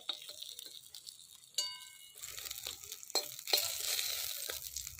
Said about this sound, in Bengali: বেগুনগুলো ভাজা হয়ে গেছে, বেগুনগুলো তুলে নেব